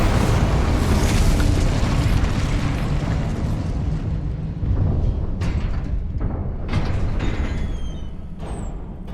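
A fiery Incendio spell burst in the Hogwarts Legacy video game, a loud sustained roaring blast with rumbling low end and sharp crackling flares, followed by further bursts and fading whooshes.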